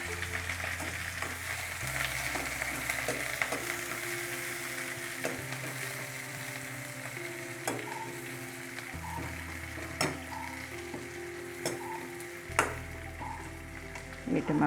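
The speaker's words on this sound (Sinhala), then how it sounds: "තෙල් ටිකක් තියලා ඒක රත් වෙනකොට මුලින්ම ලුණු, අවමිරිස් කරපිංචා" Salt, chili and curry leaves fry in hot oil with a steady, close sizzle. Scattered pops and light ticks sound throughout, over a low background hum.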